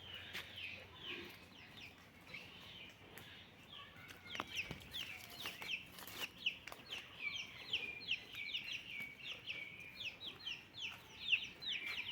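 Hens cluck softly at a distance while small chicks roaming a home garden peep in quick, high chirps, the chatter growing busier and more constant toward the end.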